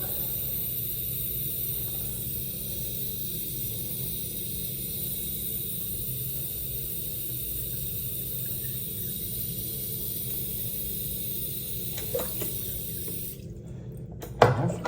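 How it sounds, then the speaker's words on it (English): A tap runs steadily into a sink, a constant rushing hiss of water, with a few knocks and clunks just before it stops. "Push the plug in so it fills up."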